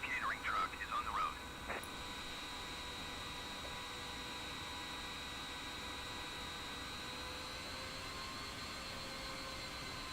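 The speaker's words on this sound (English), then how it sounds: "Okay, engine 1 is fully started." An airliner jet engine spools up and runs in Microsoft Flight Simulator 2020: a steady whining turbine roar with a high tonal hum holds evenly after a brief burst of other sounds at the start.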